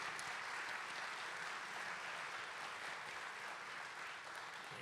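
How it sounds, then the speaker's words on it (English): Steady applause from an audience at a spring high school band concert, a quiet, even wash of many hands that runs without a break for about five seconds. "Please give them a round of applause as well"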